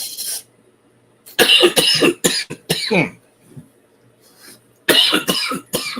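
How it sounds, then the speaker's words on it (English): Several harsh coughs in bursts, a brief one at the start, then a cluster of hacking coughs, a pause, and another close, loud fit. "That ganja got you coughing like that?"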